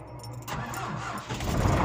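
A car engine cranked with a jump starter turns over briefly and catches, rising into a rough idle over under two seconds, fairly close.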